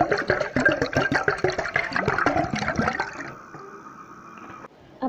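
Cooled boiled water is poured into a glass jar with a close, gurgling, splashing stream for about three seconds, then it tapers off to near quiet with a faint trickle.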